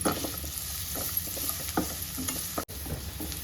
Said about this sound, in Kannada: ಮೊದಲಿಗೆ ಇದಕ್ಕೆ ಚಿಕ್ಕದಾಗಿ ಹೆಚ್ಕೊಂಡಿರೋ ಈರುಳ್ಳಿನ ಹಾಕಿ ಫ್ರೈ ಮಾಡ್ತಾ ಇರಬೇಕು